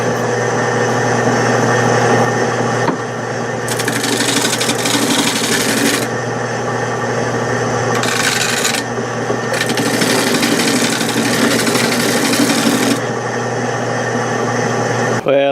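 A homemade drum spindle sander rasps against wood with sandpaper mounted backwards, a loud continuous grinding whir over a motor hum, with short bursts of brighter scraping as the workpiece is pressed in.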